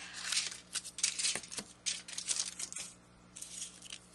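Scissors cut through tin foil in quiet, close bursts of crisp crinkling and snipping. Each burst is separated by short pauses.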